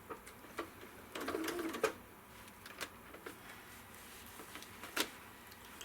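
Sewing machine making tiny free-motion stitches with thin thread on a quilt, a brief burst of whirring near the middle between scattered clicks and taps, close and quiet.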